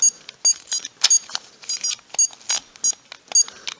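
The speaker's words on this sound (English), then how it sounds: "Boop, beep, boop, beep, beep." A cheap handheld electronic toy game gives a run of short, shrill beeps and boops in uneven rhythm, close and clear, with no talking.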